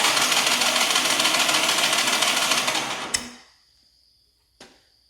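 A 1989 Yamaha Moto4 200 ATV engine cranks over during a compression test, a steady mechanical whirring churning loudly for about three seconds, then cutting off, leaving near silence broken by a single sharp click.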